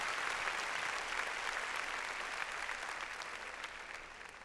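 A church congregation applauds during an evening service, dense sustained clapping from many hands that carries steadily and eases off slightly toward the end.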